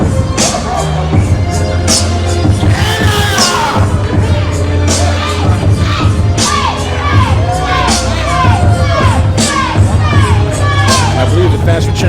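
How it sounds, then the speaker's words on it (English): A wrestling show crowd cheers and shouts continuously, a loud dense roar of fans with children's shrieks and scattered yells throughout. "I believe the fans were cheering for Wade Adams."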